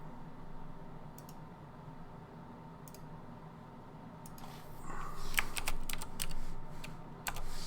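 Computer keys clack in scattered taps, then a denser run of close typing with a steady background hiss underneath.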